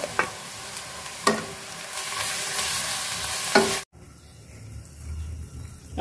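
Onions fry in hot oil with garlic and ginger paste, a dense steady sizzle broken by a few sharp stirring scrapes, then a sudden cut to a much quieter, softer bubbling.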